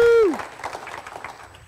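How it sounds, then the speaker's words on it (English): Audience applause and cheering break out after a card trick at a live comedy-magic show, a dense clapping wash that follows a brief whoop and fades over a couple of seconds. "Give it a round of applause."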